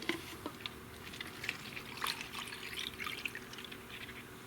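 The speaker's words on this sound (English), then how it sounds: "And I've got some diesel. And I'm going to fill it up to the top of the line here." Diesel poured into a red plastic cup during an engine strip-down on a Land Rover Malawi 110, a faint, steady trickle with small splashes and drips.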